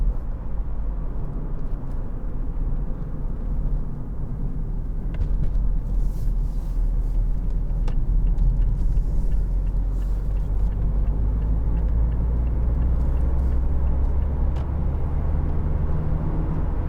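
A 2019 Mazda MX-5 convertible, 184 PS Sport Nav+, cruises on a road, heard from inside as a steady, loud low rumble of engine and road noise throughout, with no one speaking.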